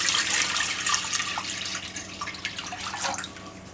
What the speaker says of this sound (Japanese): まず水を入れます。